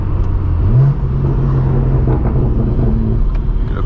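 Loud, close exhaust rumble from a straight-piped BMW M4 G82, with a deep droning note that steps up in pitch under throttle and holds a steady, throaty cruise for several seconds.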